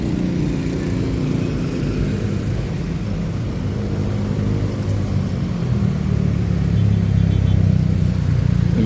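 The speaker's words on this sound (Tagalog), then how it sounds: "daw medyo matraffic yan may mga gamay nga flow sang salakyan" Steady street traffic near a market in Iloilo City, Philippines, with cars passing in a continuous low engine rumble that swells slightly toward the end, no talk.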